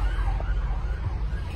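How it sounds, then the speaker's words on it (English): A police car siren on the A14 motorway, loud and near, its wailing tone rising and falling over a heavy low rumble of traffic. "Look, police car."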